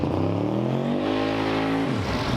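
A no-prep drag race car, running rich, accelerates hard in first gear, its engine note climbing steadily, then breaking up and cutting off abruptly, loud and close with no talking.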